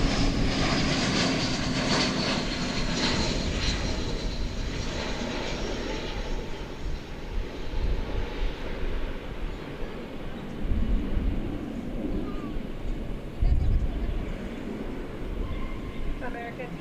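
American Airlines jet in the Stand Up to Cancer livery taking off from a runway at DFW Airport, a strong engine roar that holds steady at first, then thins and rumbles on more faintly in the distance, with occasional talk over it.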